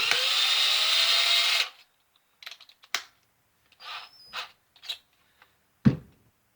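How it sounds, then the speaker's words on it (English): A Lyman case trimmer cuts a .308 Winchester brass case with a steady whirring grind for over a second, then stops, followed by scattered small clicks and clunks of handling at close range. "take your case goes right inside there, crank it down, go ahead and trim your case"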